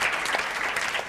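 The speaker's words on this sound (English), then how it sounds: "Can we get one last round of applause" An audience at a panel session at the Sydney Opera House claps in a dense, steady round of applause, loud and close throughout.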